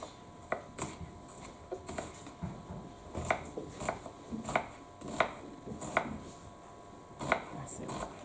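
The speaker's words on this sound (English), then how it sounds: "so I'm going to cut it in half and then I will just slice it" A knife slices through half a peeled onion on a chopping board, making a dozen or so crisp, irregular cuts, close and fairly quiet, in a school cooking lesson making stir-fried noodles.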